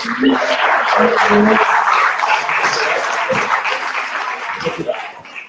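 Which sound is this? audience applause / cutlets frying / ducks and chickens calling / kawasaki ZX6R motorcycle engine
audience applause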